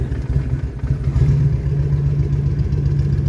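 A cold carbureted motorcycle engine is started without choke and catches into a loud, rough, throbbing idle with an uneven low rumble close by, with no talking.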